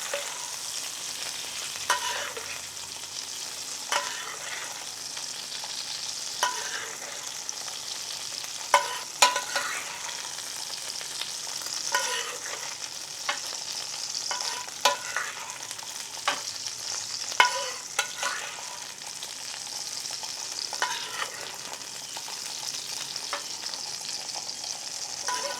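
A ribeye steak sizzles steadily in a hot pan while being basted, with a constant frying hiss broken by repeated spoon scrapes and spattering pops throughout.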